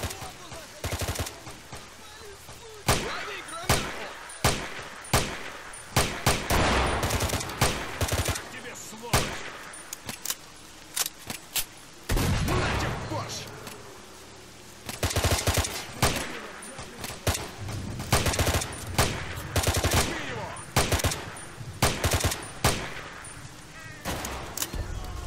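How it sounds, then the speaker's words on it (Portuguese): Repeated bursts of gunfire in a shootout from the video game Stalker with the Autumn Aurora mod, loud sharp shots and rapid automatic volleys coming in clusters across the scene. "E começou o tiroteio."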